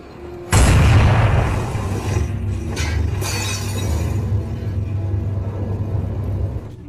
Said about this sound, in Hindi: एक जोरदार धमाके के साथ पूरी नाव आग की